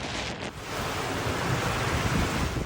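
Rough surf roars continuously off Batanes, Philippines, with heavy wind buffeting the microphone, a dense, rumbling wash of sea noise.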